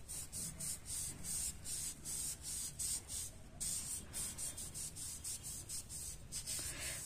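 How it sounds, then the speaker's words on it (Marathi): Cloth tip dipped in water and wiped across a stain, giving steady repeated rubbing strokes up close, fairly quiet and continuous, with no talking. "फक्त पाण्यात बुडवायचं आणि हे असं पुसून घ्यायचं बस।"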